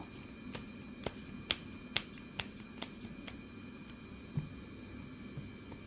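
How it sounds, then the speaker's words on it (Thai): Tarot cards being shuffled and cut by hand, sounding as a series of sharp, close snapping slaps in an irregular rhythm over a faint steady hum, with no talking. "ขอเป็นตัวแทนสับไพ่ตัดไพ่ให้คนวันศุกร์ค่ะ"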